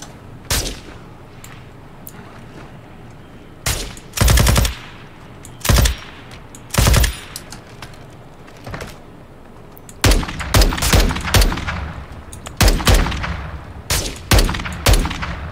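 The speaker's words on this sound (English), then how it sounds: "Dude, I shot that guy in the head 3 times." Gunfire in a Call of Duty DMZ firefight against rocketeers: sharp, loud bursts and single shots come in scattered clusters, with quiet gaps early and then rapid, overlapping volleys toward the end.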